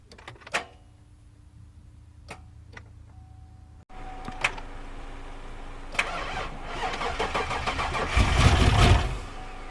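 A Chevrolet Silverado with a swapped-in 6.0 engine makes its first start: a few clicks and a brief crank, then the motor catches and settles into a loud, rough idle that swells and revs up close.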